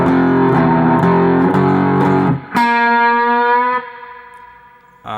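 Distorted electric guitar plays a measure of a song riff, with chugging power chords and a bent note ringing out near the end, loud and alone with effects and reverb.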